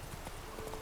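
Horse hooves clip-clopping in The Witcher 3, a steady close rhythmic trot of hoofbeats over a dense game soundscape, fairly quiet, with a faint voice spurring the horse on.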